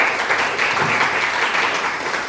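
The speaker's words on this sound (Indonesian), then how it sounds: "Mantap, berikan aplaus." A classroom of students gives a round of applause during a history lesson, a dense, even burst of many hands clapping close by that fills the short stretch without pause.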